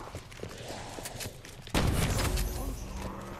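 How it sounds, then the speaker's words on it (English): A shotgun firing in a video game, a single loud booming blast about halfway through, followed by a rumbling tail, after quieter game sounds and light talk. "This is the shotgun I always run, bro."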